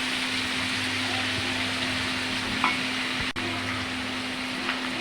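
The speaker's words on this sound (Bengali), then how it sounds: "ক্যাপসিকাম দুটো একসাথে দিয়ে দিলাম ভাজতে। এগুলোকে আমি হালকা করে ভেজে নেব।" Onion and capsicum frying lightly together in a pan, a soft, even sizzle in the background with an occasional faint stir or tap.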